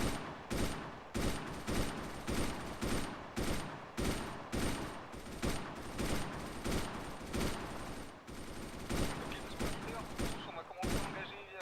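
Machine guns lay down suppressive fire at a crossroads in the military video game Arma 3, with repeated dense bursts of gunfire in a steady pulsing rhythm and voices talking over them.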